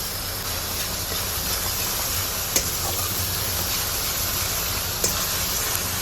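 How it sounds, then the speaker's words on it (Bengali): Blended onion paste fries in oil with cumin seeds for a Bengali shole fish dish, giving a steady close broadband sizzle with a couple of faint ticks and no speech. "দিয়ে একটু ব্রাউন করে ভেজে নিচ্ছি পেঁয়াজটাকে।"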